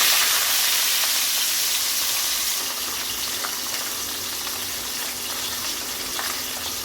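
Pabda fish coated in salt and turmeric frying in hot oil: a steady, close sizzling hiss with faint pops throughout, no voices.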